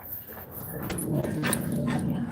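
A dog growls and gives low, rough barks up close over a continuous noisy background.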